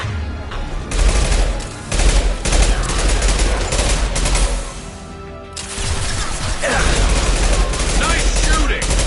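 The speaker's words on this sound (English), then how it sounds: "Firing an impact shot!" Sustained gunfire from a Mass Effect 2 firefight rattles in rapid bursts, loud and close, with a brief lull midway before the shooting resumes, while combat voices call out over it.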